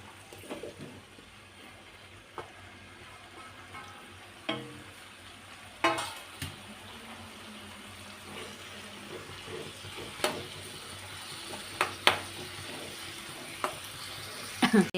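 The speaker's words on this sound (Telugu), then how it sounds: "కొంచెం ఆయిల్ పోసుకొని మనం కట్ చేసుకున్న టమాటాలు వేసుకోవాలి" Chopped tomatoes frying in oil in a pan for an eggplant and coriander chutney, a soft steady sizzle with occasional stirring clatters and sharper knocks, no talking.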